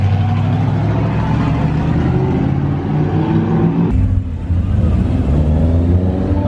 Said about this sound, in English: Somebody doing a burnout?